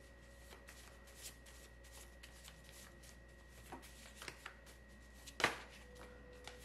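Tarot cards shuffled and handled by hand in a quiet room, soft papery riffles and taps with one sharper snap near the end, alone without talk.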